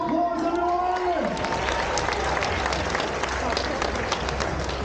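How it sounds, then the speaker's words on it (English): Crowd at a theme-park car stunt show claps and cheers in a steady, dense roar after a brief tonal sound at the start, lively and sustained at moderate loudness. "Let's give her a nice big round of applause"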